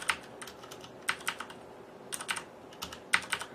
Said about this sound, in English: the actual keycap is hitting the base of the Cherry MX switch, and you're just hitting it with your finger